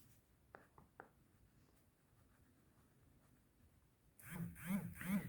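A pen scratches out a math answer on paper during a fifth-grade arithmetic exercise: a few short, faint strokes in a quiet room, then a person starts talking.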